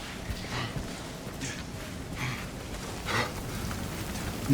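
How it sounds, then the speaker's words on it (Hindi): Steady hiss of heavy rain pouring down in the video game 007 First Light, with scattered splashy bursts over a constant wash of noise; no talking. "बारिश तेज़ हो रही है बहुत"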